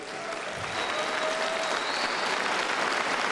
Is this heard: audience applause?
yes